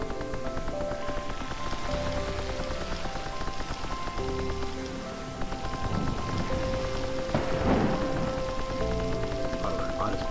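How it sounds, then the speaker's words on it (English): Steady rain with rolling thunder in the ecosystem-restoration game Terra Nil, a dense loud wash of rainfall under layered game music, with a swell of thunder near the middle and faint talk in the background. "also you hear thunder"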